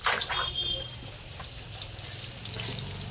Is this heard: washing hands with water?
yes